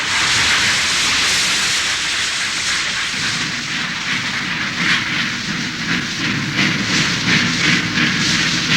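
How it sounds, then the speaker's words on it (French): Steam vents from a steamboat ferry in a loud, continuous hiss that holds steady and swells slightly toward the end, with no voices over it. "Lâchez la vapeur!"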